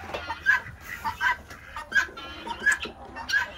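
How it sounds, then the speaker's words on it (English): Flock of about 55 laying hens clucking in a farmyard, short bright clucks repeating every half second or so, moderately close and fairly loud against a low outdoor background. "we have about 55 laying hens."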